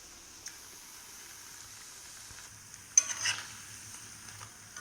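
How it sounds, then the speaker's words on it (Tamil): Leftover kichadi bondas deep-fry in oil, heard as a faint, low bubbling sizzle with a brief louder burst of crackling around the middle before it settles back to a soft, steady fry. "இப்போ ஒன்று ஒன்றா பொரித்து எடுத்துட வேண்டியது தான்"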